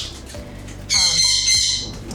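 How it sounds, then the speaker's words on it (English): A pet bird lets out a loud, harsh squawk partway through, after a stretch of quieter room noise with faint chirps, the call ringing close and sharp for about a second. "That is our bird."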